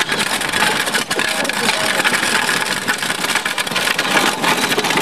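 A small vehicle's engine runs steadily and loudly close by while cruising down a main street, a continuous rough drone with no clear changes in pitch and no voices heard.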